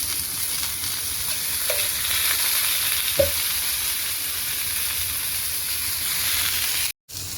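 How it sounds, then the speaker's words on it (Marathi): Tomatoes roast in a hot pan for thecha, a Maharashtrian green chilli chutney, giving a steady, even sizzle and hiss with a couple of faint clicks and a brief cut-out near the end. "टोमॅटो पण छान भाजून घेणार आहे आपण"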